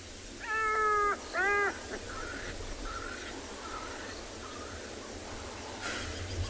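A jackal calling in the South African bush during daytime, with two close, wavering yelping cries, then fainter repeated calls over a quiet, hissy outdoor background.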